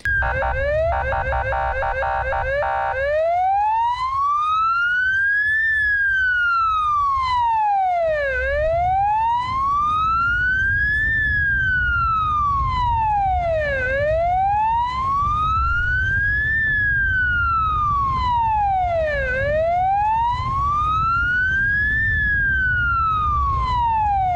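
An ambulance siren wails loudly and continuously through the streets of Uzhhorod, opening with a rapid yelping pattern before settling into slow rising and falling sweeps, with traffic rumble beneath.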